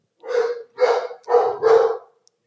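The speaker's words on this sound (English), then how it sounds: "Tolerate the dogs for a second here." Dogs bark indoors in four heavy, fairly close barks spaced roughly half a second apart, loud and alone without any talk.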